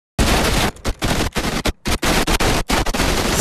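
Gunfire from a shootout scene in the film El Gringo comes in loud, dense machine-gun bursts, broken by abrupt silent gaps and cuts in the sound.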